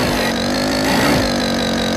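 Modified Honda Fan 125 motorcycle engine with a loud exhaust, droning steadily up close and revving slightly midway, with no talk over it.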